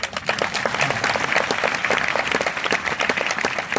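A church congregation claps in unison at a sermon, a dense, loud run of hand claps filling the hall with a steady rhythm.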